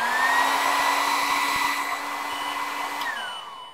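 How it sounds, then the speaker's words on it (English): An old hair dryer blows steadily to heat a lithium battery pack on a balance charger, a loud continuous whining rush with a constant motor tone that dips and trails off near the end. "I'm just going to heat this up with an old hairdryer"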